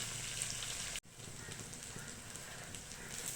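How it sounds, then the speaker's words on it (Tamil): Onions sautéing in a pan for a spicy Thoothukudi-style fish curry, a steady broadband sizzle and crackle that runs continuously, briefly cut out by a short gap near the start before resuming at an even level. "இப்போ வந்து வெங்காயம் நல்லா வதங்கட்டும்"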